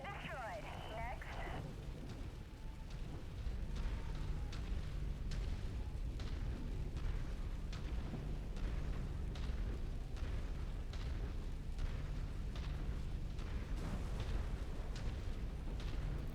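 A target blows up in a mech combat game, a dense, rumbling explosion that rolls on as a sustained loud roar with crackling debris and repeated booming impacts across the whole stretch.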